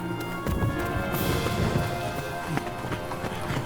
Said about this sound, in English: Shelter from the rain, sir.